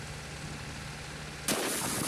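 A gunshot fired in a video game imitating Red Dead Redemption style: a single sharp, loud blast bursts in abruptly and its dense, broad noise rings on to the end, replacing a quiet background hum.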